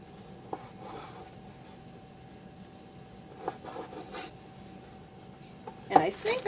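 Knife slices pepperoni in half on a board for pizza pasta, giving faint, scattered scraping and tapping cuts that grow a little busier toward the end, under a quiet background hum.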